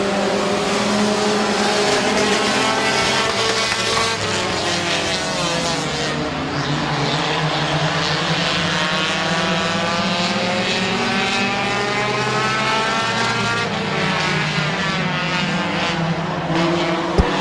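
Compact division race cars roar around the oval at Midvale Speedway, loud overlapping engines sweeping up and down in pitch as the pack passes close by, with a sharp bang right at the end.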